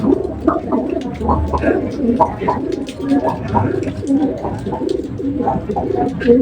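Pigeons coo in low, soft repeated phrases, close by and steady throughout, with some faint background chatter.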